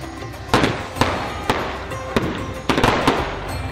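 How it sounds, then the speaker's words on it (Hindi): Diwali fireworks and firecrackers burst in a rapid irregular series of sharp cracks and booms, loud and fairly close, over a continuous crackling background. "सतरंगी आतिशबाजी से रोशन आसमान,"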